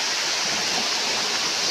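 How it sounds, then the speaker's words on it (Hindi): Heavy rain with hail pouring down, a dense, steady roar of broadband hiss with no gaps, loud and continuous with no voices over it. "बहुत तेज बारिश हो रही है"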